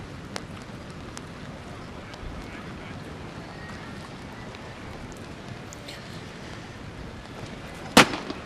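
A single sharp finish shot fired at a skûtsje sailing race, cracking out loud near the end over a steady bed of wind and water noise.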